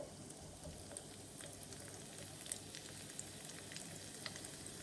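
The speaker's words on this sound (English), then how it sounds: "We're going to directly pipe some small shapes into the oil." Churro dough piped straight into hot oil, frying with a steady dense crackle and sizzle throughout, close and moderately quiet, with scattered sharper pops and no voices.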